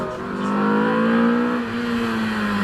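A Porsche Boxster S idling on the hillclimb start line at Prescott, a loud, steady engine drone that swells slightly and then settles back, close by and alone.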